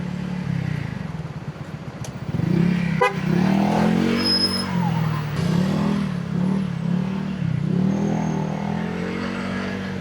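Heavy Thursday-afternoon traffic on C5, heard from a motorcycle: a steady, close drone of idling and creeping engines, broken by a few short car-horn toots. No one speaks.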